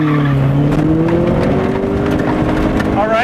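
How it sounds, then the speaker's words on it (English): A manual-transmission car launches hard, its engine note climbing steadily as it accelerates, loud and close, with tire squeal. "Now simply launch the car like I told you earlier."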